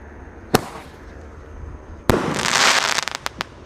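A 1.2-inch Roman candle firework shoots on New Year's Eve: two sharp, loud launch bangs, the second followed by a burst of dense crackling that trails off into a few scattered pops.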